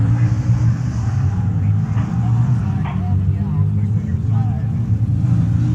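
Pro stock drag racing cars at the 1971 NHRA Winternationals rumble as a loud, continuous low engine roar, with an announcer talking over it throughout.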